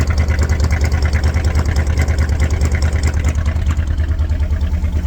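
A 1968 Buick Wildcat V8, revived after 45 years of sitting, idles loud and close with a throbbing, uneven lope from one bank missing, a steady low rumble and no talk.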